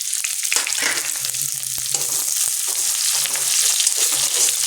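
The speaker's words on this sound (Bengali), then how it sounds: "পেঁয়াজ কুচিটাও দিয়ে দিলাম, লাল লাল করে হয়ে যাবে ভাজা।" Chopped onion sizzles in hot oil in a pan, a steady bright frying hiss that holds for the whole stretch without pause, close and fairly loud, with the occasional soft knock of a utensil.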